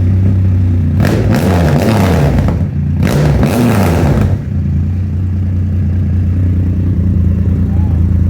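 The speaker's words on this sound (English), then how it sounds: "All the sound bites and everything that you hear online for this exhaust don't do it justice." A motorcycle with a Competition Werkes aftermarket exhaust revs hard twice in quick succession, loud and close, then settles back to a steady rumbling idle.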